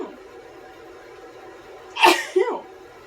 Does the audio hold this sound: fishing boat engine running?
no